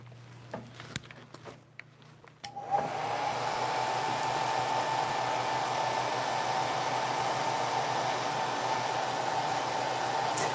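A hair dryer blows on a sticky craft project, probably a painted ball jar or a fabric transfer. It starts with a click after brief handling noises, then runs as a steady, loud broadband whoosh for the rest of the clip.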